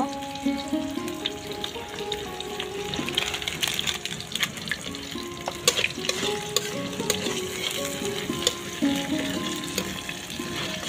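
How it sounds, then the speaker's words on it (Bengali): Panch phoron spices frying in hot oil for a fish-head and taro greens dish, a continuous close sizzle with crackling pops and clinks of stirring throughout, no talking. "পাঁচ ফোড়ন দিয়ে দিব।"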